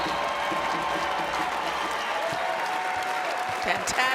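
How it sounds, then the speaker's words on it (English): Home fans applaud and cheer at a professional women's volleyball match in Madison, a dense, steady wash of clapping from a large indoor crowd that runs throughout, with a commentator talking over it. "Fans on their feet for their home team."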